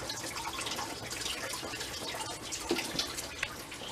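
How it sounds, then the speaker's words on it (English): Coolant drains from the engine of a GMC Chevy truck with a 5.3 engine, a continuous close rush of splashing liquid pouring steadily without pause. "I'm just gonna let that drain."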